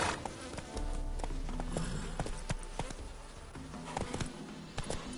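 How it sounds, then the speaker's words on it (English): Insects buzz steadily through a busy outdoor scene in the video game The Witcher, with a horse's hoof clops and rustling layered over a constant low hum. "Just bees."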